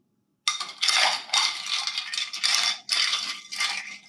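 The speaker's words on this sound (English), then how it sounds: "So let's go ahead and stir this bad boy up." Ice rattling and clinking in a mixing glass as a Boulevardier cocktail is stirred, with several loud bursts of rapid clatter separated by brief pauses, close and alone.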